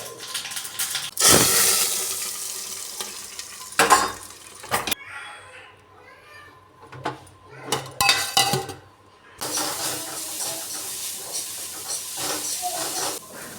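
Tempering being added to dal in a home kitchen: sharp bursts of sizzle and hiss, clinking of a spoon and pan, and quieter gaps between stirs, with a long sizzling stretch at the end.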